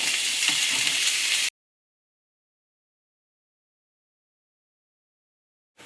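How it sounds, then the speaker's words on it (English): Minced pork browning in a hot pan for a pork pie gives a loud, close, steady sizzle and fry for about a second and a half, then cuts to silence. "We're just going to add the minced pork. Right, and we're going to brown that up."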